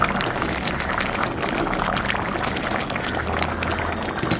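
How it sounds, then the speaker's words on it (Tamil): Wedding-style Jaffna potato curry boils vigorously in a pot, a dense, continuous bubbling and gurgling at steady loudness with no voices. "இப்போ நல்லா பொங்க கொதிச்சிட்டுது"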